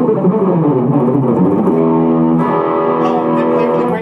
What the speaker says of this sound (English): this is once again just going straight into this amplifier with a little distortion pedal